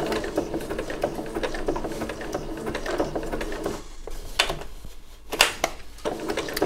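A sewing machine stitches appliqué in black thread around a tight corner, running in steady mechanical bursts with short pauses where the fabric is turned by hand.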